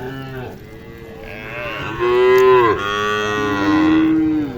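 Sahiwal cattle at a cattle show moo loudly and close by, with long, drawn-out bellows that rise and fall across several seconds and no voices heard.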